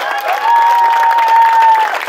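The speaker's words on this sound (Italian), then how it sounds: "Fategli un grande applauso!" Crowd applause at an outdoor summer village festival in Castrì di Lecce, a steady dense clapping that holds for about two seconds, with a sustained tone ringing through it.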